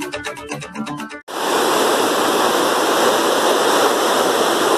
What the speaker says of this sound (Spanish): Esto es el paso del río Meléndez acá por los altos de la Reforma.